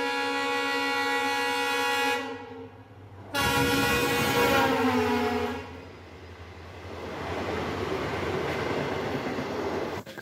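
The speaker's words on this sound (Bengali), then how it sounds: "অন্য একটা ট্রেন এসেছিল তো সেটার একটা ভিডিও করেছি" A train arriving at a railway station in Pandua sounds a loud, sustained horn in two long blasts, followed by the steady rumble and rattle of rail cars rolling close by, with no talking.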